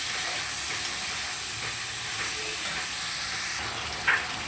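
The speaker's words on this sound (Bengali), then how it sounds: "মাছের তেলটা দিয়ে সবজিগুলোকে আবারও ভালো করে মিশিয়ে নেব।" Vegetables for a bottle-gourd-leaf stir-fry are stirred with fish oil in a frying pan, giving a steady soft hiss and sizzle with faint scrapes, ending in a brief clink.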